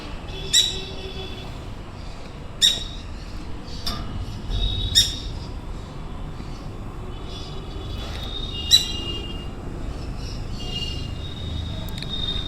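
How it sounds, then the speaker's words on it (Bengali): Yellow-sided and pineapple conures at the Garia bird market give sharp, scattered calls, several distinct squawks over a steady background murmur of the busy market. "সুন্দর সুন্দর ইয়েলো সাইড কনুর এবং পাইনঅ্যাপেল কোনুরগুলো দেখতে পাচ্ছেন গড়িয়া পাখিরহাটের"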